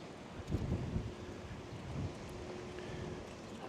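Wind blows outdoors against a fuzzy-covered microphone, a steady low rumbling buffet with a few stronger gusts, filling the whole stretch without any voice.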